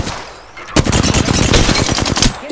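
Loud, close automatic gunfire in the video game Apex Legends, a rapid burst of shots lasting nearly two seconds after a brief quiet start.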